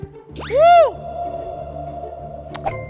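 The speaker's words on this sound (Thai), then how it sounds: "เสียงก้องมาก" A loud whooping, rising-then-falling tonal call rings out and lingers with a hollow reverberant tail inside a rock tunnel through a mountain in Saraburi, Thailand, over a steady low rumble and faint background voices.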